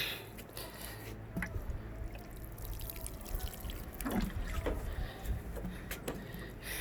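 Water poured onto a plant in a homegrown food garden, a steady splashing and trickling with soft drips and squishy soaking sounds, close and continuous throughout.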